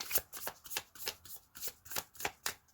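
Tarot cards being handled and shuffled give quick, close, crisp riffling flicks in a steady rhythm, about a dozen soft snaps in under three seconds, with no voices.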